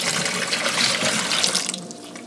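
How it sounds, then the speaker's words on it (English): A corn sugar and water mix is poured into a secondary fermenter for home-brewed beer, a steady loud rushing splash that thins out toward the end, with no talk. "add in our corn sugar water mix into our secondary fermenter here"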